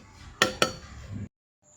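Metal lid set on a cooking pot: two sharp clinks close together, a short rattle, then quiet, with a faint bump at the end.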